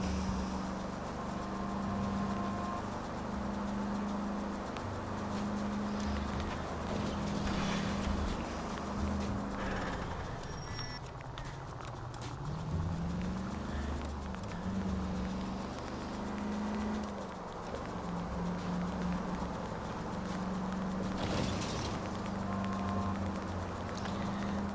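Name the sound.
car driving on a flat tire in LA Noire (video game)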